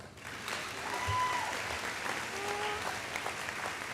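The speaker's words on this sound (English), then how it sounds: "Please give them a round of applause." Audience applause fills a high school athletic awards ceremony, a steady wash of clapping from a crowd that swells after the first moment and carries on evenly, heard from some distance without speech over it.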